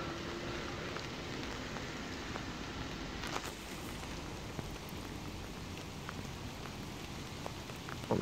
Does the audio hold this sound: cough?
no